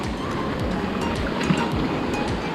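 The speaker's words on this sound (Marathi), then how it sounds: "असा हा समुद्र पूर्णपणे समुद्राचं खळखळणारं पाणी" Sea surf washing against the rocks at Arambol beach in Goa, a steady broadband roar with repeated low swells and splashes, close by and continuous with wind buffeting the microphone.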